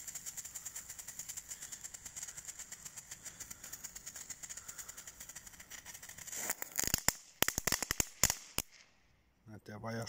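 A fizzing, crackling Pyrofactory Donnerblitze firework sputters for several seconds, then breaks into a rapid series of sharp pops and bangs before falling quiet.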